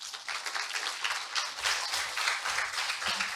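Applause from a seated audience after a science lecture, a dense, steady patter of many hands clapping at close range, sustained evenly throughout.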